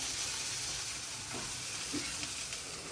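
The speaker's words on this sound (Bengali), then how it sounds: "এখানে হচ্ছে ঢেঁড়স ভাজি করতেছি" Okra frying in a pan in a home kitchen, a steady close broadband sizzle that runs without a break through the whole stretch, with faint stirring scrapes now and then and no voices.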